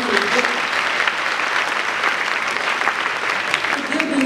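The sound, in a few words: audience applauding the parents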